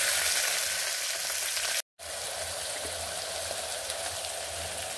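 Three chopped onions hit hot oil in a pan for a pea kurma, giving a steady loud sizzle that cuts out for a moment and then resumes evenly.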